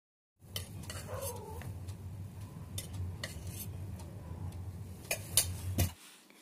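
Samosa dough of flour, carom seeds, salt and oil being mixed by hand in a bowl, with soft close scraping and rubbing broken by a few sharp clicks of metal against the bowl, louder near the end.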